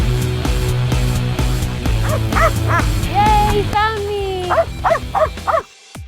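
Several sharp barks and yips from a search and rescue dog, close and loud, over a steady low music bed, with some whimpering and whining tones toward the end before a sudden cutoff.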